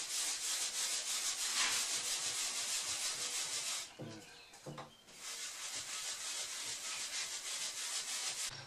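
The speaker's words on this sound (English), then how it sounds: "Gray Scotch-Brite pad and a bit of paste wax." A gray Scotch-Brite pad rubs paste wax onto a wooden computer base in rapid, rhythmic back-and-forth strokes, close and scratchy, pausing briefly midway before resuming.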